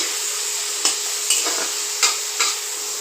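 Eggs sizzle loudly in hot oil with slit green chillies, a steady close frying hiss broken by four or five short stirring scrapes.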